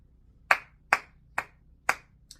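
Five separate, sharp claps ring out at a steady pace, about two-fifths of a second apart, at a political rally. The fifth clap is softer than the rest. No voices are heard.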